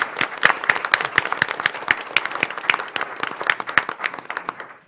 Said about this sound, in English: So why don't we give him a round of applause?